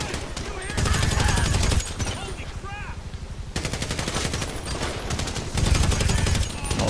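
Gunfire in the Kortz Center shootout in GTA 5: rapid automatic bursts rattle loud and close in several long strings, broken by short gaps where faint voices and other game sounds come through.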